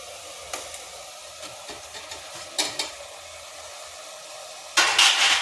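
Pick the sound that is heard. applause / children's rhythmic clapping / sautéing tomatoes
sautéing tomatoes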